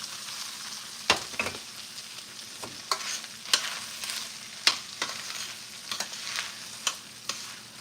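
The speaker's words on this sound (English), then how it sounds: "So let's let this fry." Food sizzles in a frying pan over turned-down heat, a continuous crackling fry broken by repeated sharp clicks and scrapes of a utensil stirring, spaced irregularly across the clip, with no voices.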